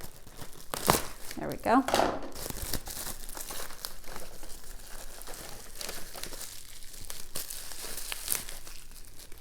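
Plastic packaging around a sesame spread is cut open and unwrapped, with sharp crinkling and tearing bursts early on and lighter rustles afterward, while a person talks.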